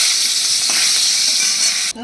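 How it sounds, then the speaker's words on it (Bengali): Loud, continuous sizzle of rohu fish frying in hot oil in a wok, a dense crackling hiss with a brief clatter near the end. "এবার তেলটা গরম হয়ে গেছে, এবার দিয়ে দিচ্ছি মাছটা।"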